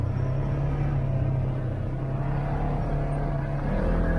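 An XP Turbo off-road vehicle drives around, its engine giving a steady, loud low rumble that holds evenly throughout with no talking.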